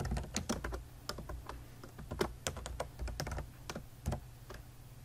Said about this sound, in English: We now type in the name of the subheading that we wish to add.